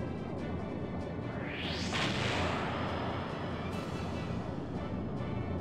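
Cannon attack in the Skies of Arcadia Legends video game: a loud blast with a rising whoosh and rumbling impact over a dense, continuous game soundscape, with no talk.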